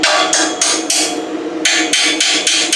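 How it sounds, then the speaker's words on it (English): Repeated hammer blows ring on the metal of a Harbor Freight 10-ton hydraulic log splitter, about seven sharp strikes in an uneven rhythm, close and loud with no talk. "let's take the hammer here"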